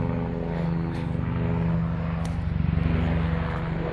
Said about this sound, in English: I have a helicopter flying over me